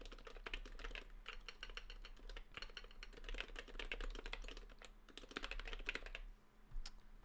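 Rapid typing on an HHKB keyboard in a metal case, a dense stream of close, crisp key clacks with short pauses and a louder final keystroke, no talking.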